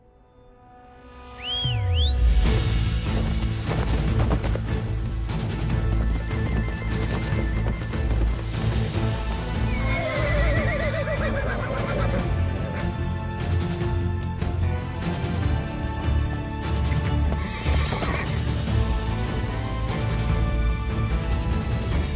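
Horse hooves clop rapidly and a horse whinnies near the start, then galloping continues under a loud, dense action-film score with sweeping music throughout.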